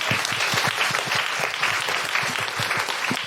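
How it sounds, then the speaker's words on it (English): Audience at a live comedy podcast show claps steadily and loudly, a dense continuous wash of hand claps filling the room, with a few voices faintly underneath. "A big round of applause for Amy in the lighting booth."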